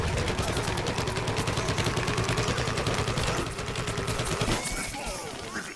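Rapid gunfire in the Plants vs. Zombies: Garden Warfare PC game, loud continuous bursts of shots with clatter that ease off slightly toward the end.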